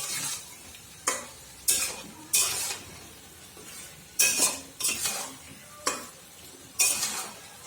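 Potatoes being stirred into a frying chicken curry with tamarind: a spoon scrapes the pan in sharp, separate strokes over a steady sizzle, about nine bursts in all, close and fairly loud with no voices.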